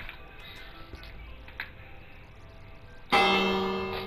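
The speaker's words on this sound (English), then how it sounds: "How do you ring this bell?" A village bell in the Minecraft video game rings once, loud and sudden after a few quiet seconds of faint clicks and ambience, its bright metallic tone clanging and slowly fading.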